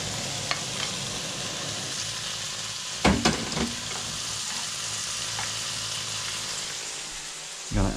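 British bacon sizzles steadily in a hot frying pan, a continuous close crackle with a few louder pops and stirring clatters, no talking.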